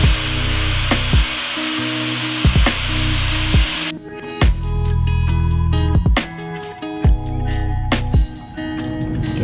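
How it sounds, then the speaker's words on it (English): A power drill whines in repeated short bursts, pitch dropping as it bites into metal, with pauses between runs and no talking. "I'll drill the hole after I weld it."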